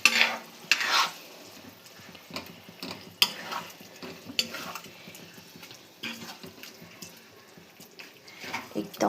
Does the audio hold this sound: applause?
no